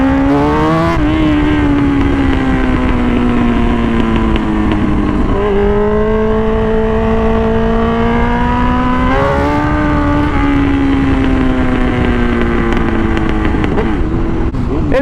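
A 2005 Suzuki GSX-R1000 K5 superbike fitted with an SC Project exhaust runs loud and close, its engine droning steadily with smooth rises and dips in revs over fifteen seconds.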